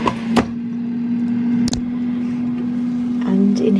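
A steady low mechanical hum from an air fryer cooking potatoes drones throughout, close and constant, with a few brief clicks and knocks on top.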